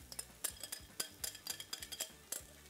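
A whisk beats yoghurt into hot Turkish köme rice soup in a pot, a quick, uneven run of clinking metal taps and splashy stirring strokes, close up with no talk.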